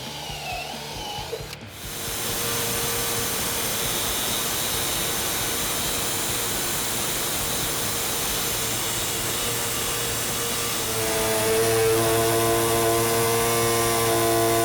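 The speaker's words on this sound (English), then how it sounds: "I'm going to drill a couple holes and get this cut out." A power drill runs continuously while holes are bored into the bed of a Ford F-150 for a prerunner bed cage, a loud steady whir lasting over ten seconds and rising slightly in pitch near the end.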